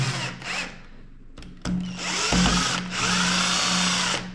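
A power drill drives the manufacturer's screws into a fitting during home electrical wiring, with several short whirring bursts followed by longer sustained runs of the motor, loud and close.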